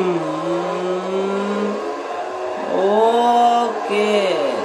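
A Ford RS engine in Forza Horizon 4 revs up and down through several rising and falling sweeps, loud and close, with faint talk over it.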